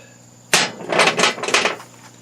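Hammer strikes on metal to make a dimple before drilling, during a plunger repair on a New Holland 273 baler: one sharp hit followed by several quick, ringing taps, close and loud.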